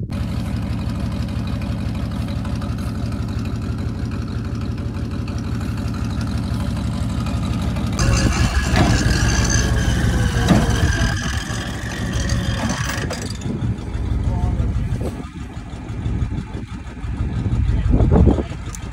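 A tow truck engine idles with a steady low rumble, then grows louder and rougher midway with uneven surges and clanks before settling and rising again.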